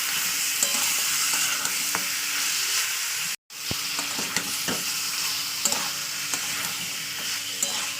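Meat sizzles in a pan with spices as it is sautéed, a steady frying hiss broken by repeated scraping stirs, briefly cutting out for a moment before the sizzle and stirring resume close up.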